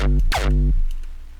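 A crunchy, distorted hardstyle kick made in Phase Plant with a shaper table hits twice, loud and close, each with a sharp pitched click and a booming tail that fades out, with no talking.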